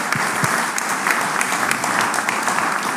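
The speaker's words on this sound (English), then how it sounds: "Let's give JP a round of applause for being" An audience at a mayor's business round table panel applauds the moderator: steady, full clapping from a room-sized crowd with individual claps popping through, holding an even level throughout.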